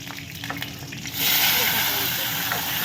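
Cumin seeds and onion hit hot oil in a pan for a tomato dish, and a loud, steady sizzling hiss surges up abruptly partway through, then carries on evenly to the end.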